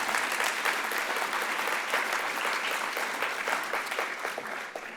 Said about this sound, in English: can we get a round of applause for our up-and-comers?